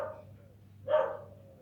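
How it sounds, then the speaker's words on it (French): Dogs bark behind massive walls, one short muffled burst standing out at a distance over a low steady background hum. "vous les entendez les chiens qui aboient derrière."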